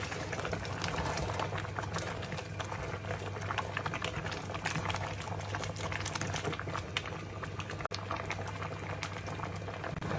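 Leafy greens porridge (ilai kanji) bubbles in a pot while being stirred, a dense, steady churning and gurgling with no pauses, close but fairly quiet.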